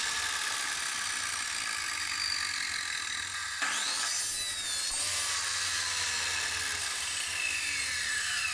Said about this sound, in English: Then the drilling.